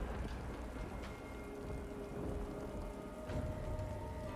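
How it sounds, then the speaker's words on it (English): Rain spell cast during combat in the video game Divinity: Original Sin 2 - Definitive Edition: a steady, dense hiss of falling rain with low thunder rumbling beneath. Two brief brighter splashes stand out, and no one speaks. "I could throw down rain here, and that should break the fella's invisibility."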